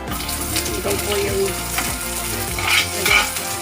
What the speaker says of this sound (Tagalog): Umpisa na po natin mag-gisa sa pagluluto ng palabok.